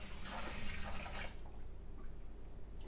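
Boiling water pours while home-brewing beer, a splashing, trickling stream that runs for over a second before thinning to faint dripping and a low background hum, with no talking.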